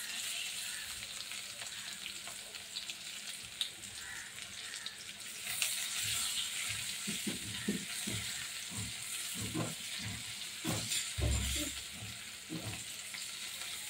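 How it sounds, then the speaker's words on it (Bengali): Onion with a bay leaf, two pieces of cinnamon and two cardamom pods frying in a pan, a steady close sizzle running throughout with occasional stirring scrapes and clinks, no voices. "পেঁয়াজটা ভাজা হয়ে গেছে।"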